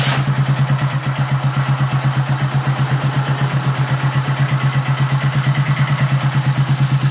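A motorcycle engine running on E100 neat ethanol idles steadily and loudly nearby, a fast even putter with a strong low hum that holds throughout without revving.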